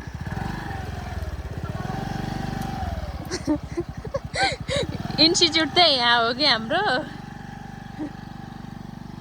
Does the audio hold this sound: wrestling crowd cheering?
no